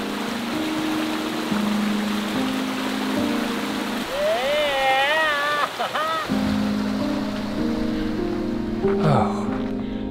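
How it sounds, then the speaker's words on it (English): Running water from a stream beside a hiking trail to the Choquequirao ruins in Peru, a steady broadband rush heard throughout, with a person's voice briefly speaking over it midway. "You hear that? Running water."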